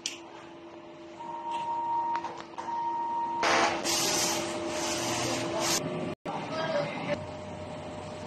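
A DTF printer runs a nozzle test after a head clean, giving steady mechanical whirring with a held tone, then a louder burst of carriage motion and rubbing about halfway through, a brief cutoff, and quieter running at the end.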